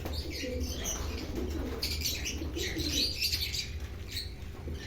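Pigeons being moved by hand into a new coop keep up a steady low cooing, with soft chirps and rustling close by and no talking.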